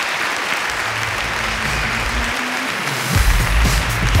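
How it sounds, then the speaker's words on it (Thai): A studio audience at a Thai talent show applauds to welcome a young performer, with sustained clapping and music or voices rising in the low end as the cheering swells near the close. "ขอเสียงปรบมือต้อนรับน้องครีมครับ"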